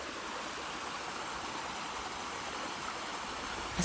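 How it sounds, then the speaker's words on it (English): A flowing stream rushes outdoors, a soft, continuous hiss of running water at an even level, with a brief close knock or handling noise right at the end. "Can you hear this water?"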